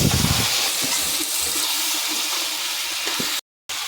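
Boiled cooking water poured over frying spices in a pan for a goat tripe and potato curry, raising a loud, dense hiss of steam that holds steady before a brief dropout near the end.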